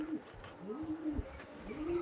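Pigeons coo with repeated rising and falling calls, the first call prominent and the rest overlapping through the whole stretch, close by and moderately loud over a low rumble.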